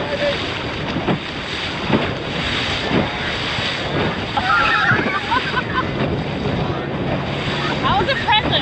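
A race committee boat at a multihull sailing championship off Texas pushes through choppy water, with steady rushing wind noise and splashing waves surrounding the microphone while people talk intermittently.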